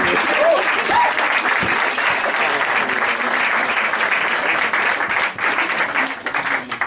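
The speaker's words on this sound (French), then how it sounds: "on l'applaudit bien fort" Dense, steady applause from an audience at an improv comedy show, loud and close, sustained the whole time with no talking over it.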